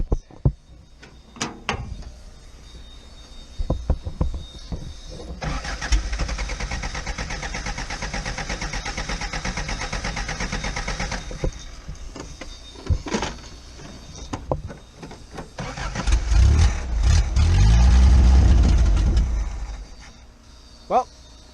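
A project car with a newly installed fuel cell cranks for several seconds, then catches into a loud, low, rumbling rev before cutting out.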